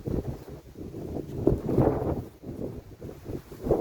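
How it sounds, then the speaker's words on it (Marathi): Soft, uneven gusts of wind buffet a farm plot of trellised ridge gourd, with a low rumbling rush that swells and fades over a few seconds and no talking. "जरा वारा आहे त्यामुळे दिसू शकणार नाही."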